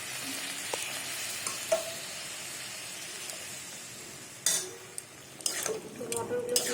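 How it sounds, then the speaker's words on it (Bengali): Boiled peas sizzle in frying masala, with a soft continuous fry and sharper clatters and scrapes as a spoon stirs them in the pan. The noise grows busier toward the end, with no clear talk. "মটরগুলো দিয়ে একটু নাড়িয়ে চাড়িয়ে জল ঢেলে দেবো।"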